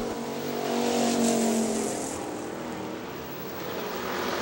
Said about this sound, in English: Denny Brower, your leader down the main straightaway in car number 57.